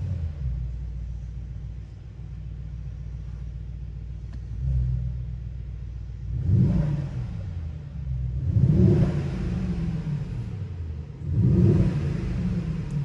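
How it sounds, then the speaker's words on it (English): A 2021 Mercedes-AMG GLS63 SUV, cold, starts with a deep idle rumble heard from the interior, then gives several short, moderate revs that swell and fall back, spaced a couple of seconds apart. "Let me just start up the car and give you some rest from the interior"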